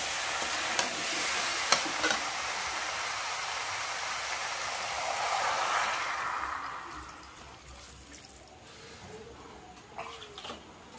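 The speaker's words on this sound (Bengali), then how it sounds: "দেখতেই পাচ্ছেন আমরা পরিমাণ মতো এখানে জল দিয়ে দিয়েছি।" Water poured into a pan of frying chickpea masala with spices, a broad sizzling hiss that swells for several seconds, then settles into a quieter bubbling simmer with a few clinks.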